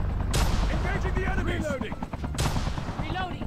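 Gunfire in the mobile battle royale game COD Mobile, with two loud shot bursts over a dense background of game noise and chatter.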